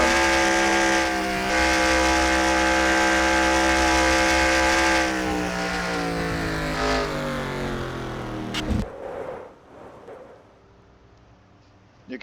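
In NASCAR Racing 2003, a stock car engine drones loudly at high revs, its pitch sagging slightly, then cuts out abruptly after contact, leaving quieter scattered racing noise.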